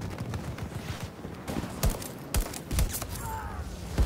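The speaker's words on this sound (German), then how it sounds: "Ah, du brauchst wirklich immer drei Schüsse, ne? Also mit dieser DMR hier." DMR rifle shots ring out in the video game Battlefield 2042: about five sharp, distinct reports spaced roughly half a second apart over a busy background of distant gunfire and battlefield noise.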